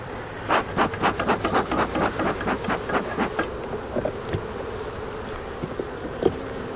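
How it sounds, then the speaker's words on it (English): Honeybees buzz around an open beehive on a cloudy late afternoon, a run of close, pulsing buzzes at first that thin out into scattered passes with a low hum beneath. "Bees are a little angry right now because it's cloudy and it's getting late in the day."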